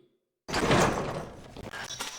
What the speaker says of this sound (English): Oh, the door. Let me get that for you.